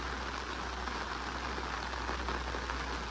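Rain falls steadily on harvested rice fields, a dense, even hiss of drops with no break and no voices.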